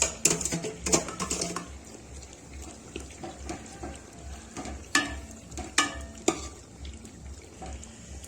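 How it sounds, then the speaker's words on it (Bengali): Potatoes tipped into a pot of frying mutton for biryani give a few sharp clattering thuds over a continuous sizzle, then stirring scrapes and intermittent clanks against the pot, with no voices. "আলুগুলো এবার ছেড়ে দেবো।"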